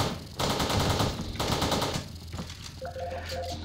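Shotgun blasts in the retro top-down shooter Teleglitch: a few heavy, rapid booming shots close up, followed by a lingering low hum and small electronic blips.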